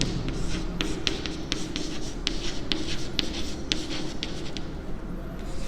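Chalk or marker scratches across a classroom board in short strokes during a math lesson, a quick series of close scraping taps over steady room hiss.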